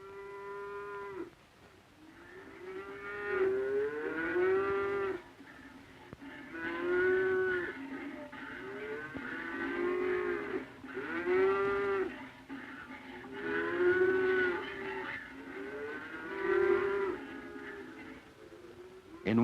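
Cows in a barn on a Swiss mountain farm moo repeatedly, long drawn-out calls from several animals spaced every few seconds, fairly close and loud with a quiet stall ambience between them.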